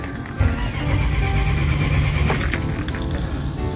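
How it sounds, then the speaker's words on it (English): A Perkins 4.108 diesel engine cranking over without catching, with a steady churning starter rhythm that stays loud and close for several seconds before easing off. "I'm gonna crank her up"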